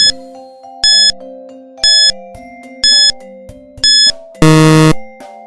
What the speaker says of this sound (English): Your timer starts now.